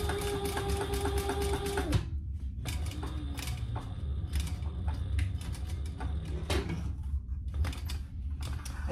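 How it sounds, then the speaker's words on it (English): Sewing machine topstitching fabric on a hobo bag, running in fast steady bursts of rapid mechanical stitching, close and fairly quiet, with short pauses and clicks between runs. "I'm gonna fold it to the inside fabric portion and top stitch that, but I'm going to top stitch on both sides."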